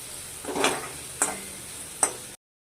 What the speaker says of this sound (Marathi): कांदा तळत आला की थोडासा लसूण टाकायचा